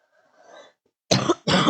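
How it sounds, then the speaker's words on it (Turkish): Two sharp, loud coughs in quick succession, close up, after a faint throat-clearing rumble. "ben niye öksürdüm?"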